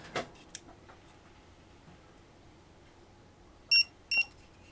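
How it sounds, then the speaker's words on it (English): Small Temu Bluetooth tracker tag emitting two short, sharp electronic beeps close by near the end, after a quiet stretch with faint handling taps and no talking. "I did make it beep."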